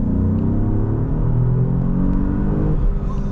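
An Alfa Romeo Giulia Quadrifoglio sedan with a ZF eight-speed gearbox, driven in race mode, gives a steady loud engine rumble that climbs in pitch as it accelerates hard, heard from inside the cabin with no talk.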